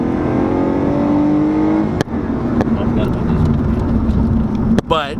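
A Lotus Evora with its stock exhaust drones at a steady engine note, loud and close, then a sharp click and a shift into rougher running, with a rising whine near the end.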